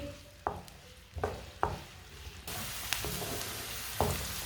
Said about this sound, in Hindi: एक बारीक कटा हुआ प्याज, प्याज को ना हल्का सा ब्राउन कर लेंगे।